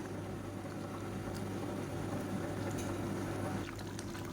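The watery liquid of a white chicken biryani with green chilies simmers down in a pot, giving a continuous low bubbling hiss with faint stirring clinks near the end.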